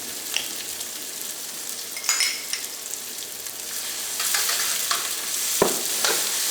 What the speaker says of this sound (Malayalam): ഈ ജിഞ്ചർ ഗാർലിക് പേസ്റ്റ് ഈ സവോളയൊക്കെ നമുക്ക് എണ്ണയിലിട്ട് നമുക്കൊന്ന് വഴറ്റിയെടുക്കാം